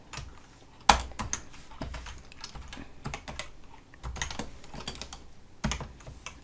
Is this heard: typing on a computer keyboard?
yes